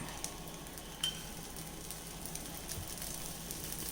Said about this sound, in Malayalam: ഇതിലേക്ക് നമുക്ക് കുറച്ച് നെയ്യ് ഡ്രോപ്പ് ഒഴിച്ചു കൊടുക്കാം.